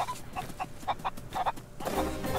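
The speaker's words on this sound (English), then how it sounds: "I hear chickens! Yes! A red chicken!" Chickens cluck in the pirate video game Sea of Thieves, a short run of soft, evenly spaced clucks at moderate distance over a low ambient bed, with no talk.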